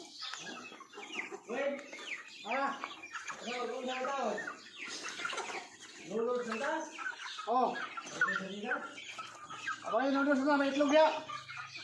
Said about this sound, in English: they're starting to peck away down there at the greenery and here